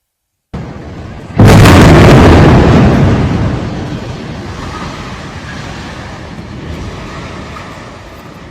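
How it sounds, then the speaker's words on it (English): A high-rise residential building struck by an explosion: one sudden, loud, broadband blast erupts after a low rumbling background, then a long roaring, rumbling decay that lingers under steady ambient noise. "The Al-Susi high-rise residential building was struck on September 6th."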